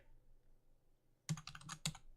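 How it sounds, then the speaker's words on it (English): Quick keystrokes on a computer keyboard typing text into a design program, a short burst of clicky taps starting after a quiet pause, close and moderately loud with no talking. "then we can type whatever we want"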